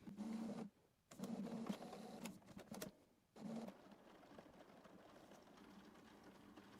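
A Canon inkjet printer, refilled with bottled ink, purges its nozzles with a run of mechanical whirring and grinding, pausing briefly, then settling into a steady low hum.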